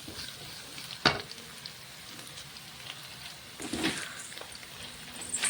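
Onions sautéing until golden in a pan give a soft, low sizzle with a couple of sharp spatula scrapes, fairly quiet and close, with no voices.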